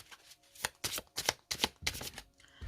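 Tarot cards being shuffled by hand, a quick run of crisp riffling bursts, close and distinct with no talk over them.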